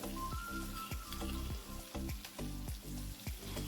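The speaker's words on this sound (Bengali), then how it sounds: "সব একসাথে খুব ভালো করে ভেজে নেব একদম স্লো ফ্লেমে ভাজবেন" Garlic and green chillies sizzle in hot oil with cumin over a low flame, a steady close frying crackle broken by a few soft stirring knocks, with no one talking.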